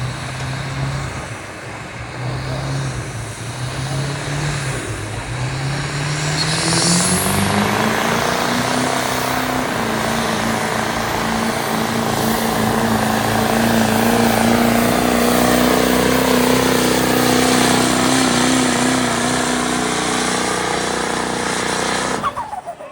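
A Dodge Charger pulling truck at the Cass County truck and tractor pull spools its engine up into a loud, sustained roar, pitch climbing steadily and holding high for the whole stretch, with no speech over it.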